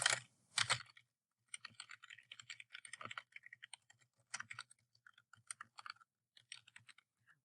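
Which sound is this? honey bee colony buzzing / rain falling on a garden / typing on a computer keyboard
typing on a computer keyboard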